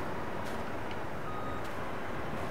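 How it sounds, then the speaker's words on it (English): A truck in a farming simulator reverses, its backup alarm beeping a few times at a steady interval over a loud, constant engine and road rumble. "now I gotta scoot the truck over"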